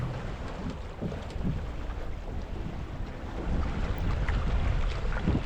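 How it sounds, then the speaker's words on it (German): A small sailing dinghy crossing Eckernförde Bay in a light easterly wind, with a steady broadband wash of water and wind rushing past the hull, continuous and fairly loud with no voices. "Wieder bei relativ leichten Ostwind, also traumhaft, um allein mit einer Jolle dann über die Eckernförder Bucht zu segeln."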